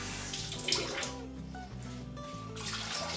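Tap water running into a pot holding washed tuvar dal, a steady close splashing pour that lasts nearly the whole clip with a short dip partway through.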